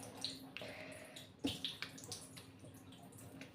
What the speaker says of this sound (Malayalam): നമുക്ക് മുഖം ഒന്ന് കഴുകി നോക്കാം.